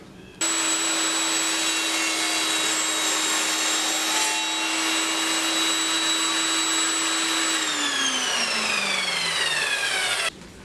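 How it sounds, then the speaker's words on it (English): A power saw cross cutting a piece of plywood: the motor spins up to a steady high whine, holds through the cut, then winds down with falling pitch before stopping. "now I just have to cross cut that as well"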